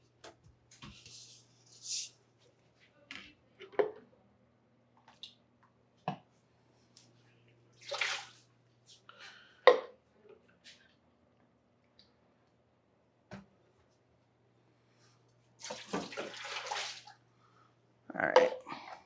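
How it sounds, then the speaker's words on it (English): Hot water scooped out of a water-bath canning pot holding filled jars of strawberry lemonade concentrate, with scattered splashes, pours and clinks of a scoop in short bursts, separated by quiet pauses. "Let me get something to take some of this water out."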